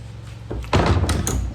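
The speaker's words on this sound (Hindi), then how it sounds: "तो ये दरवाज़ा बंद करके" An indoor room door swings shut close by, a brief scraping movement followed by a solid thunk as it closes.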